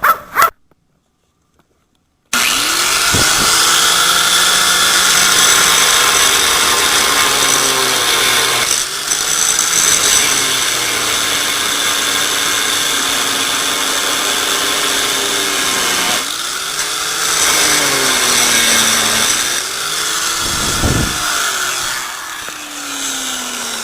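A power tool cutting angle iron salvaged from bed frames, a loud, continuous grinding whine that runs almost unbroken after a brief quiet start, with the pitch wavering as the blade bites into the metal.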